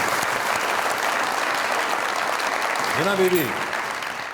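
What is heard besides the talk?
studio audience applause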